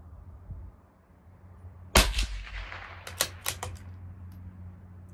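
A CZ457 LRP rifle firing Aguila .22 Interceptor rounds at a 50-yard range, heard as one sharp, fairly loud crack followed by a short cluster of quieter clicks and rattles, with no talking.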